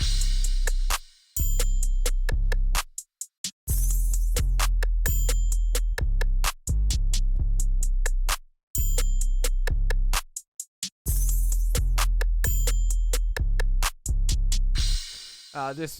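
Loud hip hop beat with deep booming 808 bass, crisp hi-hats and snare hits, broken by brief pauses between phrases.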